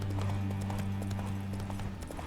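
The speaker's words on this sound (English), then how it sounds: "Spooking my horse." Horse hooves clip-clopping at a steady walking rhythm in The Witcher video game, close and moderately loud over a low constant hum.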